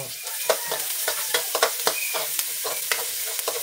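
Chopped onion and garlic sizzle in a hot pan while a utensil stirs them, giving a steady bright hiss with repeated sharp scraping strokes throughout.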